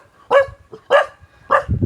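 A dog gives three loud, close barks spaced about half a second apart, each short and sharp, with quiet gaps between them.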